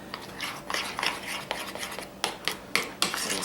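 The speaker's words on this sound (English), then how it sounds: "I'm just giving it a good stir." Spoon scraping and stirring a thick chocolate fudge mixture in a bowl or pan, with repeated close scrapes and clinks in an uneven rhythm and no voices.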